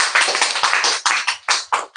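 Loud, close applause from a classroom of students, a short burst of sharp, rapid claps for about two seconds.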